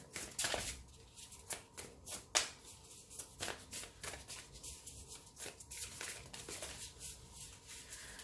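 Cards from an Amante Oracle deck are shuffled and handled up close, a quick run of crisp riffling flutters and soft slaps repeating in irregular bursts, with no talking.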